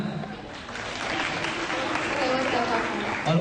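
A crowd at a youth sarasehan gathering in Bali applauds, a continuous wash of clapping that holds steady for a few seconds.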